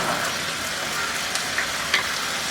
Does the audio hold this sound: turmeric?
yes